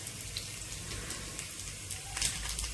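Garlic pieces, mustard seeds and cumin sizzle in hot oil for street-style chole, a dense, even crackle with scattered pops, steady and fairly quiet throughout, with no talk.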